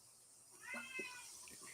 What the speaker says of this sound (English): sending me Snapchats of her cat meowing at her.